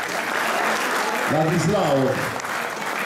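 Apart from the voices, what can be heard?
theatre audience applause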